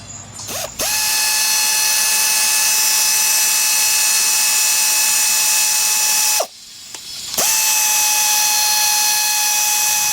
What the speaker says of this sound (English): then I have to unscrew the power head off